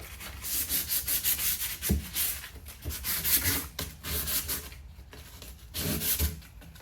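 Abrasive scratching and scuffing across the inside of an aluminum tub being prepared for a DIY cold plunge, a continuous rough rubbing with rhythmic strokes, close and fairly loud.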